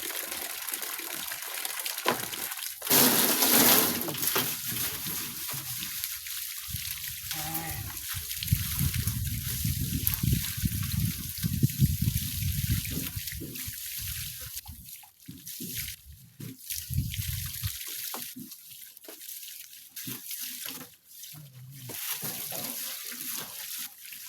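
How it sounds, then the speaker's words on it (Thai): Cloth is washed by hand in water, with intermittent sloshing and splashing, trickles and drips, close by and fairly soft, pausing between bursts of movement. "ล้างผ้าเข้าก่อนเปื้อนหน่อยนึง"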